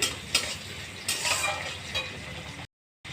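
Onion, green chilies and tomato fry with salt and turmeric in a pan, a continuous sizzle broken by several scraping stirs of a spoon, close and fairly loud, with a brief drop to silence near the end.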